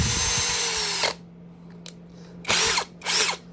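A TZ Z90 brushless rechargeable drill whirs loudly for about a second, then gives two more short bursts after a pause, each rising and falling in pitch as the motor spins up and down.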